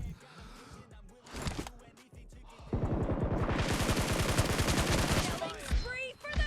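Rapid automatic gunfire from an online shooter game, a sustained burst of many fast shots that follows scattered earlier shots, with excited players talking and exclaiming around it.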